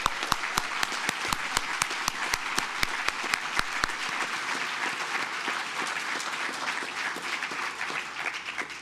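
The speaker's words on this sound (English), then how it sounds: "Ladies and gentlemen, please applaud my fellow nominees" An audience at a deputy governor's awards ceremony applauds the award nominees: sharp, distinct claps at first give way to a dense, sustained wash of applause that stays fairly even to the end.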